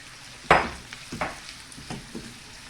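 Shrimp poured into a clay pot with fried peppers, a sharp initial splash and sizzle followed by a few softer stirring scrapes over quiet frying, with no talking.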